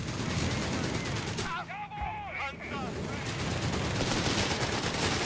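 Grenadier assault in Company of Heroes 3: dense, rapid rifle and machine-gun fire with crackling volleys that briefly thin out midway, then resume loudly and continuously.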